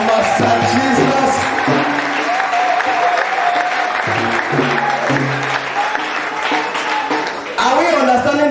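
A church congregation claps and cheers loudly after a fibroid healing testimony, applause dense and sustained throughout, with voices and a talking or singing leader mixed in over the crowd.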